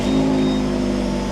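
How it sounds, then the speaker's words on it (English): A car engine under restoration turns over and settles into a steady idle of about 1200 RPM, a continuous close mechanical hum with no other sounds. "Car starts up, sounds just fine"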